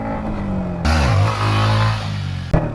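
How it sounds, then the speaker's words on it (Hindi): A Yamaha MT15 motorcycle rolls along, then revs sharply as the clutch is released at high rpm to lift into a wheelie. The engine note rises and falls loudly and close by, with no talking. "अब थोड़ी सी रोलिंग लेके अपने को क्लच रिलीज़ करना है हायर आरपीएम पे"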